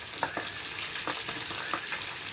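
Pabda fish fry in hot oil, giving a continuous close sizzle with small pops and crackles scattered throughout.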